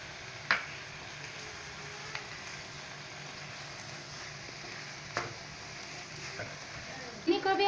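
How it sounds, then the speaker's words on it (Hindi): A spoon stirs sugar into lauki halwa cooking in a pan, giving a soft sizzle under faint scrapes and a few sharp taps of the spoon against the metal, with clanks near the end. "चीनी को भी हम अच्छी तरह से मिक्स कर लेंगे और इसे सुखाते तक चम्मच चलाते रहेंगे"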